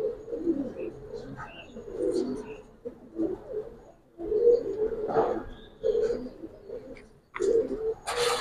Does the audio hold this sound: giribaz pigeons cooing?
yes